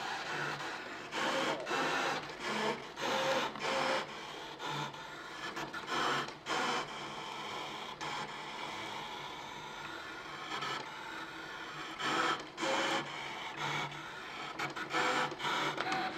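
A Brother ScanNCut SDX230Di electronic cutting machine works through material on a low-tack mat, giving a steady mechanical hum broken by repeated short whirring bursts as the carriage moves, close and alone without talk.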